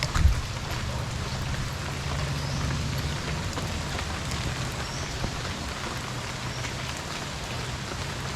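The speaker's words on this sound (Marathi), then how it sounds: "आता इथे जोरात पाऊस आला ना" Heavy rain pours down on a countryside shed near banana trees, a dense continuous hiss of drops on the roof, loud and steady throughout with no talking.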